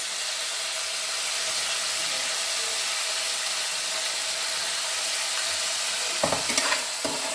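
Masala spice base for a Bengali pabda fish curry fries steadily in a pan, a dense continuous sizzle with a few louder stirring scrapes near the end, heard alone without talk.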